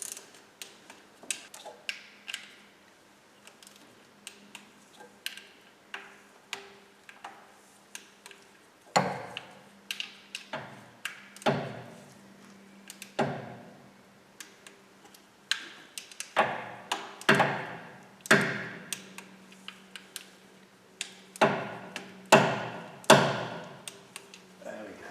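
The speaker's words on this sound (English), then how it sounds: "now torque each one of those bolts to 10 Newton meters" A torque wrench ratchets and clicks while camshaft cap bolts on a B18/B20 engine are tightened one after another, sharp irregular metallic clicks and ratchet bursts growing busier over time, with occasional talk.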